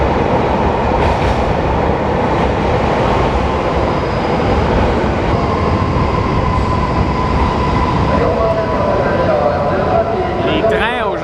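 A train runs loudly through a station in Nayoro, Japan, with a continuous rumble and rattling wheels and a rising metallic squeal near the end. Someone talks over the noise.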